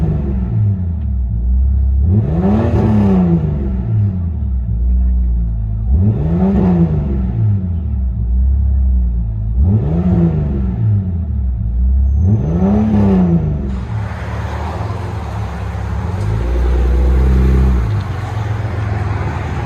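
A 2002 Jeep Grand Cherokee Limited with a 4.0L inline-six and straight-pipe exhaust revs four times in a slow rhythm, each rev a rising and falling loud growl. It then settles into a raspy rumbling idle, heard close up.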